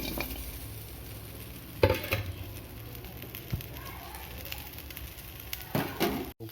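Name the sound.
stir-frying dry pork with bamboo shoots and king chilies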